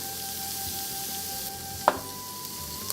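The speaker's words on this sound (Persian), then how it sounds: "به مدت 10 دقیقه اجازه میدم که گوشت کاملا سرخ بشه" Steady sizzling and frying hiss from meat browning in a pan with salt, pepper, turmeric and saffron, broadband and continuous, with a single sharp clink near the middle and a faint tap at the end.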